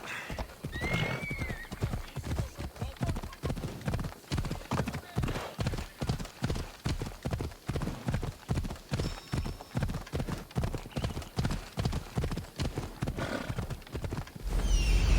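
Horse hooves gallop in Assassin's Creed Odyssey, a steady, rapid clip-clop rhythm that is close and continuous. A brief whinny is heard near the start, with other game sounds in the background.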